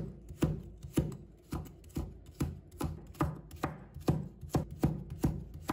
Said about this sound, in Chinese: 再改刀切成细丝，丝不一定要切得很细，但要切得均匀一些就可以了